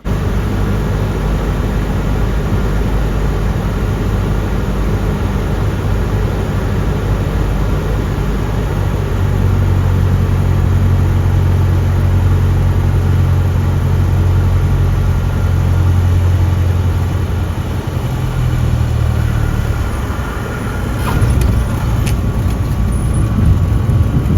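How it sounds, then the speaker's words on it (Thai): A Cessna 172 light aircraft lands on a runway after a flight over the southern California desert, heard from the cabin as a loud, steady engine drone with a constant airy hiss that barely shifts for over twenty seconds. "ขณะที่เครื่องบินแบบเซสนาเกสองเนี่ย ลงจอดบ นทางวิ่งที่สนามบินเนี่ย เป็นอย่างไรนะครับ"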